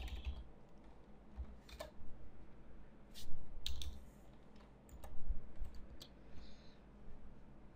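Computer keyboard typing while a new page is set up in a Salesforce web tool: scattered clicks and short bursts of keystrokes at moderate level over a low steady room hum, with no one speaking.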